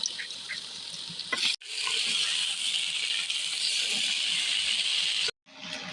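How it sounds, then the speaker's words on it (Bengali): Water from a rinsed spice bowl is poured into a Bengali milk shukto curry. It makes a steady, close splashing pour of about four seconds, set between brief gaps. "মশলার বাটিটা ধুয়ে একটু জল আমি দিয়ে দিচ্ছি তরকারি।"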